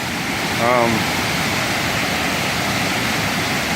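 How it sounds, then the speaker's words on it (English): Steady, dense roar of rushing water from Wolf Creek Falls fills the scene, with a brief voice-like sound near the start. "But these are the falls."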